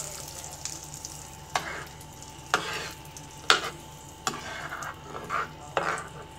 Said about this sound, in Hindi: इस तड़के को अच्छे से आप हिला लीजिए।